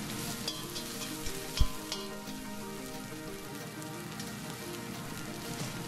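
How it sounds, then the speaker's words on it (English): Garlic and fine thyme frying in hot oil, a continuous crackling sizzle like light rain, close by and moderately quiet, with a brief low knock partway through. "Now I'm going to put some oil to hot and then add my garlic"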